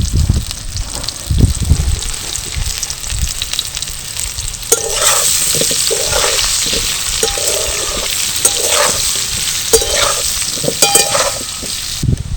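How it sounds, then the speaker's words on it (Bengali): Potatoes sizzle loudly in hot oil in a pan for aloo dum, with turmeric and Kashmiri chilli powder added, and a spoon stirs them in repeated scraping strokes over a steady frying hiss. "আলুগুলো একটু লাল লাল করে ভেজে নেব।"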